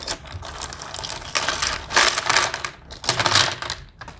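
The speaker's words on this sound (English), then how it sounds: "it is in a Ziploc bag. Let's open this up." A plastic Ziploc bag holding toy blocks is handled and opened nearby, giving bursts of crinkling and rustling with rattly clicks as the plastic pulls apart and the blocks shift, in a few uneven surges with no talk.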